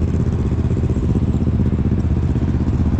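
A motorcycle on a night ride idles with a steady, close engine rumble that carries a fine rhythmic clatter throughout, loud and unbroken, with no voices.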